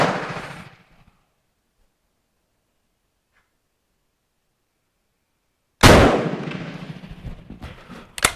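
Two loud, close shots from a Bren Mk2 gun, one at the start and one near the end, each with a sharp crack and a decaying tail, separated by several seconds of silence.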